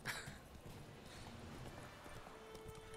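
Horse hooves clip-clop steadily in The Witcher 3, faint and close, with a brief sharper burst at the start and no clear whinny.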